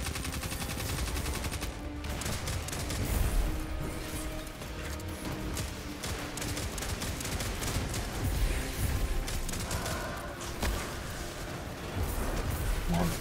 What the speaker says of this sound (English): Oh no, I don't even hit that one with the rocket.